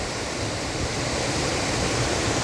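The Pamburan Para waterfall roars as a dense, unbroken rush of falling water, loud and constant throughout with no voices.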